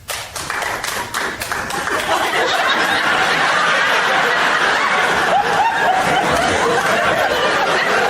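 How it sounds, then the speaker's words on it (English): Crowd applause at a stand-up comedy show, swelling from scattered claps into a steady wash of clapping with some laughter mixed in, loud and sustained throughout. "I want you to applaud if you are Catholic."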